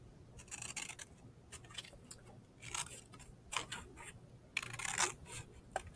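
Scissors snipping through an index card to cut out a design, producing soft, irregular close crunching cuts at a quiet level, with no talking.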